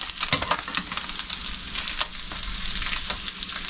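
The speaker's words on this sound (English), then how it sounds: "Let's go ahead and flip these fillets." Fish fillets sizzle in a hot pan, just flipped with a large grilling spatula. A steady, close crackling fry continues with a few light pops and scrapes.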